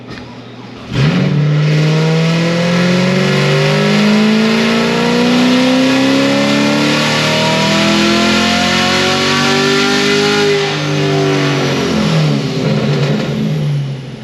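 A Procharger-supercharged car engine with headers kicks in loudly on a dyno and revs steadily upward through a full pull, a rising whine climbing over a sustained roar before easing off at the end.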